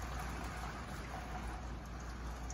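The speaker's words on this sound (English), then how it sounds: "The rain. It's a storm." Steady rainstorm hiss, a constant wash of falling rain heard close and fairly quiet, with no voices.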